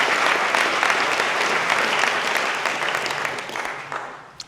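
Sustained applause from a packed audience at the Oxford Union, dense and even, fading gradually toward the end, with faint voices mixed in.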